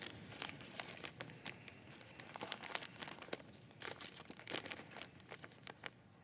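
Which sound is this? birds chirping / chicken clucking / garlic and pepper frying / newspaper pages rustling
newspaper pages rustling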